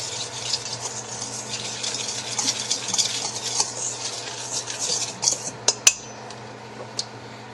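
Dry ingredients for sweet and sour pork, seasoned with a pinch of salt, mixed in a bowl: a utensil repeatedly scrapes and clinks against the sides, ending in a few sharper taps.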